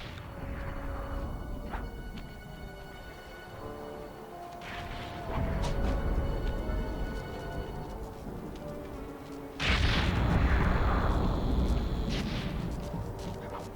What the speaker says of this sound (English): There's that red explosion.